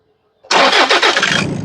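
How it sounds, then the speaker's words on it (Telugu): A Toyota Innova 2.5 GX diesel (2015) engine cranks briefly and fires up, settling into a steady, loud idle close by. "బండి స్టార్ట్ చేయవు ఒకసారి"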